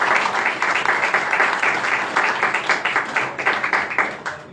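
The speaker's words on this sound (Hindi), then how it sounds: "हम सब उनका तालियां बजाकर वेलकम करेंगे" An audience at a church gathering claps to welcome a guest, warm steady applause with some rhythmic, pulsing claps running through it, fading slightly at the end.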